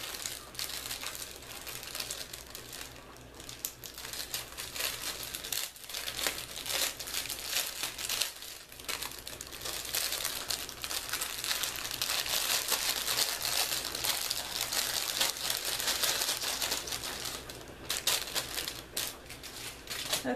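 Steady crinkling and rustling of a small cheap plastic bag being opened and its small craft items rummaged through, continuous close crackling and shuffling with no talking.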